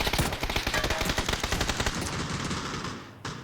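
Rapid automatic gunfire in a shooter video game, a loud dense rattle of shots over ambient battle noise that thins out toward the end with a final isolated crack, and nobody talking.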